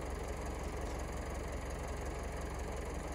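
A tractor engine runs steadily at idle, a constant low, rough drone with a faint knock, loud and unbroken throughout.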